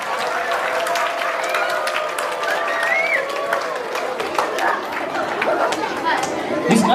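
An audience at a village concert claps as folk musicians come onstage, with a scattered, uneven rhythm under lively crowd chatter and a voice talking.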